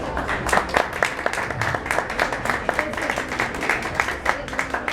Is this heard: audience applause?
yes